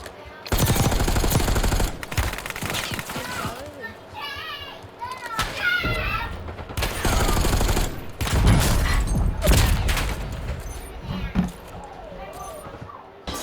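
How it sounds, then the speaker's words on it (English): Rapid bursts of automatic gunfire in the video game Call of Duty: Warzone, loud crackling volleys that start and stop, mixed with game sounds and a voice talking over them. "but then I start getting shot at from control center"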